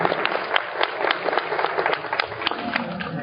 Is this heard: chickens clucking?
no